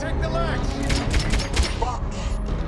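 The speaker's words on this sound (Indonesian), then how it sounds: "saat terdengar suara tembakan" Gunshots in a heist film, a rapid burst of several sharp cracks fired in quick succession, loud and close, over a busy music and effects backdrop with voices underneath.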